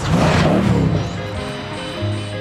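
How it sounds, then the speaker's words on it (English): A deep, rumbling V8 engine revs briefly, loud and close, then settles into a steady throb. "under the bonnet is one fabulous sounding V8"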